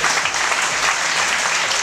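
A burst of dense audience applause at a ranking announcement, loud and continuous clapping from a crowd throughout the short clip.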